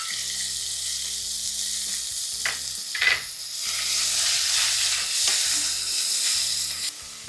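Fresh mint and coriander leaves frying in hot oil in a pan for pulao, a loud continuous sizzle and hiss close up, with brief stirring scrapes midway and no voices.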